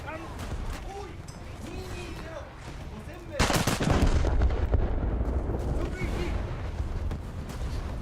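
Naval gunfire in a battleship video game: muffled booms and crackling salvos sound against steady engine and sea rumble, with a heavy burst of shots in the middle, while a voice talks over it.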